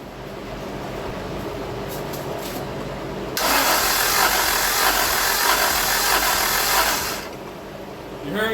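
A weak-compression engine cranks over on the starter for several seconds, its noise loud and even, then it stops.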